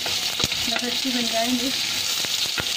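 Onions fry in a little oil in a kadhai with a dense, constant sizzle and a few spatula taps. A voice speaks briefly over it.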